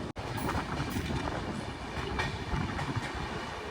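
The Kanchankanya Express, train 13149 from Sealdah to Siliguri, rumbles along near the Sevoke rail gate, heard from on board as a continuous loud roar of wheels and carriages with faint rhythmic clatter and no talking.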